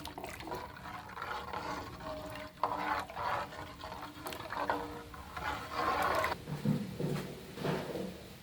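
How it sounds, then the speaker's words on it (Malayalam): A thickening ragi and melted jaggery mixture is stirred in a pot, close wet scraping and bubbling strokes repeating irregularly with occasional spoon knocks against the vessel, no voices. "ഇങ്ങനെ ഇടയ്ക്കിടയ്ക്ക് ഇങ്ങനെ ഇളക്കിയാണ്ട് കുറച്ച് കുറുന്നനാക്കിയെടുക്കുക."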